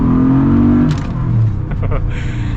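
A Jeep Gladiator 392 with its V8 engine and 37-inch tires accelerates in a loud, rumbling surge from inside the cabin, the roar dipping slightly as it goes on.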